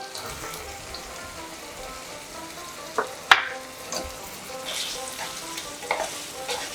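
Spice paste fries in a kadai over a low to medium flame, giving a steady sizzle with a few sharper spatters and stirring scrapes, the loudest burst near the middle.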